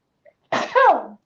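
A single sharp sneeze from a woman, close to the microphone: a short intake followed by an explosive burst that trails off, with faint clicks just before and after in an otherwise quiet room.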